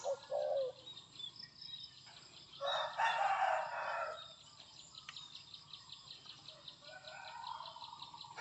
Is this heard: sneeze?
no